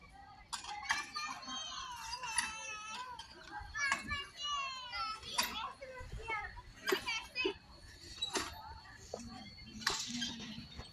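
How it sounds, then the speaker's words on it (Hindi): Children play loudly in a park near swings, with a continuous mix of high-pitched shouts, squeals and chatter at close to middle distance. "बच्चे खेल रहे हैं बहुत जोर जोर से"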